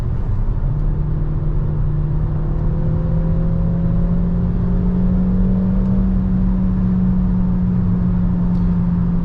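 A 2022 Peugeot 3008 GT Hybrid plug-in (300 HP) accelerating in sport mode, heard from inside as a steady droning engine and drivetrain hum whose pitch climbs gradually, loud and continuous with no talking.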